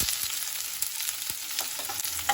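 Finely chopped onions and whole cumin seeds frying in hot oil for a home-cooked meal give a soft, continuous sizzle with scattered small pops and crackles throughout.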